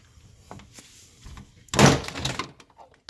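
A plastic retaining peg pops loose from a Suzuki Kizashi door panel with one sharp snap and a short rattle, after faint handling noises.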